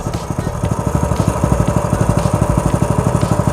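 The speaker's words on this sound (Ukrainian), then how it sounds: "на ліфані мінімальні оберти у нас" A Lifan engine idling at minimum revs with the choke closed, giving a steady, even, rapid putter of close, regular pulses that runs on alone without any change in speed.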